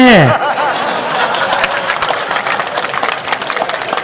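Audience applause at a Hindi poetry recital: a dense, steady patter of clapping after a brief opening sound, lasting several seconds.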